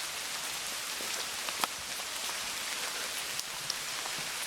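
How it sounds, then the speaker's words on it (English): Steady rain falls in a cemetery, a dense continuous patter with a few sharper drops striking nearby surfaces, fairly close and with no voices over it. "it's raining a bit heavier now, isn't it?"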